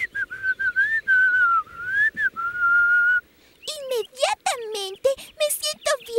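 Someone whistles a short wavering tune, then a quicker run of bright, chirpy whistled notes follows.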